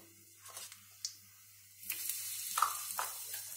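Dried red chillies and asafoetida hit hot ghee in a tempering pan, giving soft sizzling and spattering bursts that build and grow steadier toward the end, close and fairly quiet with no talking.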